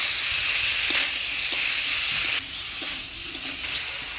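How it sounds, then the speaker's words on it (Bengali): Jackfruit and pre-fried potatoes being sautéed with spices in a pan for a Bengali village-style curry, giving a steady close sizzle and hiss with occasional stirring scrapes and clinks throughout. "এবার দিয়ে দেবো ভেজে রাখা আলু, কাঁঠালের সাথে ভালো করে কষিয়ে নেব।"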